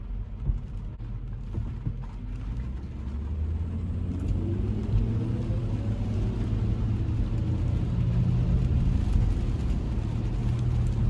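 A Toyota Land Cruiser on Toyo Open Country A/T III tires pulls away gently on a wet road, its low engine rumble rising steadily in pitch as it gathers speed, heard from inside with no talk.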